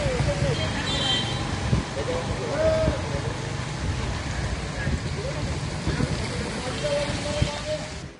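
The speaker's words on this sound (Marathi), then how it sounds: "गडचिरोलीमध्ये कालपासून मुसळधार पावसानं हजेरी लाभलेली आहे" Heavy monsoon rain in Gadchiroli hisses in a dense, steady wash, with passing traffic rumbling beneath and a voice speaking over it.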